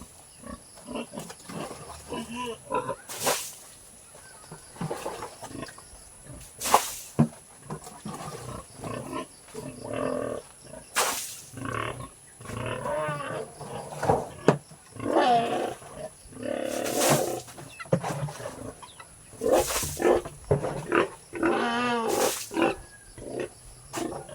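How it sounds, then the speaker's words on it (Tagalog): Pigs grunt and squeal loudly at feeding time, a continuous jumble of close grunts and sharp squeals from several animals, punctuated by periodic clanks or bangs. "Kaya magpakain muna tayo ng baboy."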